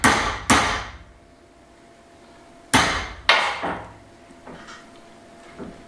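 Hammer whacking a metal rod clamped in a vise to bend it: two pairs of loud, close, sharp strikes with ringing decay, a couple of seconds apart, followed by a faint lighter tap.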